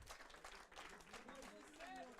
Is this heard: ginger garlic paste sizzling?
no